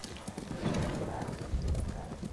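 Rhythmic clip-clop of horse hooves at a steady trot in the video game Ghost of Tsushima, fairly close, with a busy game-like background underneath.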